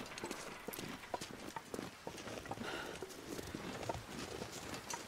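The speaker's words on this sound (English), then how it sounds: "It almost sounded like footsteps over there." Irregular footsteps crunch across the ground in the survival game The Long Dark, on the Blackrock map under custom Interloper difficulty, a string of soft broadband steps at a moderate distance with no talking over them.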